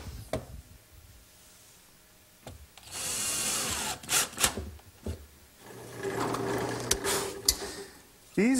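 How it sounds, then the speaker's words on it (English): A power drill whirs in bursts as it drives 1 1/4-inch screws through a wooden cabinet panel into counterbored holes, close and fairly loud, with short pauses and clicks between runs. "I'm using some 1 1/4-inch screws to attach the panel"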